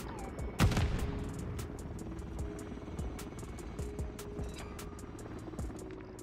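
Gunfire in Call of Duty Modern Warfare 3: sharp, rapid shots crack repeatedly over a low droning rumble, with one louder burst early on and scattered reports continuing at moderate distance.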